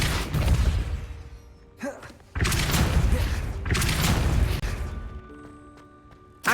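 Depulso spell cast in Hogwarts Legacy, a series of loud booming bursts and crashes separated by brief pauses, with a short voice between them.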